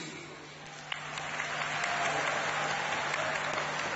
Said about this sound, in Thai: ขอเสียงปรบมือให้กับ dance trainer ครับ